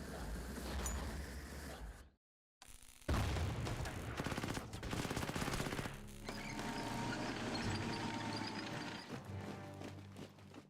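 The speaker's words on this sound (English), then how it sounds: "there's so many explosions" Rapid bursts of gunfire and explosions crackle and boom in dense succession, with a brief silent gap, sounding like a busy battle scene in a turn-based war video game.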